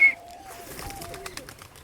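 Pet pigeons of several breeds cooing in a loft, faint low coos under a thin whistling tone and scattered light clicks and rustles, with a sharp brief chirp at the start.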